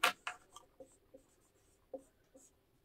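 Pen or pencil writing dress measurements by hand on paper, a few soft scratchy strokes and taps spread out with pauses, close but quiet.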